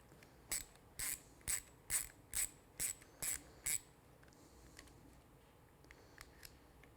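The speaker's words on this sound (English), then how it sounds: "using your T30 Torx bit, you take this screw off" Ratchet clicks from a T30 Torx bit backing out a screw near the master cylinder reservoir of a Triumph Street Twin motorcycle, eight short crisp bursts in a steady rhythm, then quiet.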